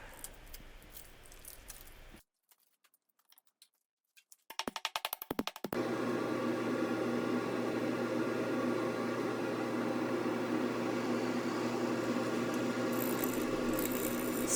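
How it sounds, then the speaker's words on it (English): A wood lathe spins a resin-filled log while a bowl gouge cuts, giving a steady rushing scrape that starts after a short pause and continues evenly. "Starting here with the bowl gouge, quickly changed to the Easy Wood carbide tipped. The bowl gouge was chipping out the resin a bit."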